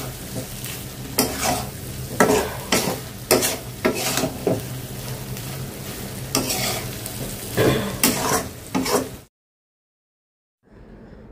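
Dried loitta fish with whole garlic sizzling and frying in a pan, with repeated scraping stir strokes in a steady rhythm, close and loud, ending abruptly in silence before faint sizzle resumes.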